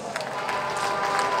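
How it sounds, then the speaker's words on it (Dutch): Crowd applause at a Dutch-language mass political meeting in Paramaribo, a dense continuous patter of clapping from many hands, loud and steady throughout with faint voices mixed in. "Geef ze een applaus."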